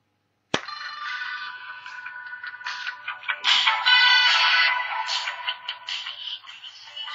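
A Nokia N97 mini phone plays its ringtone at loud volume. It starts abruptly after a moment of silence, then a bright, steady electronic melody rings on alone for several seconds.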